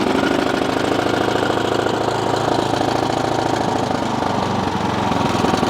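A rusty, neglected Ariens Pro snowblower engine running on choke, a steady, loud, close mechanical drone with a fast chugging pulse throughout.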